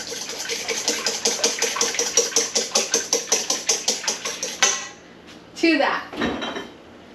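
Two eggs are whisked briskly in a bowl, making a steady run of rapid, evenly spaced clinking strokes up close that stop abruptly, followed by a few scrapes and brief speech.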